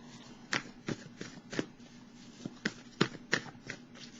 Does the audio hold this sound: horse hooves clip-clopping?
no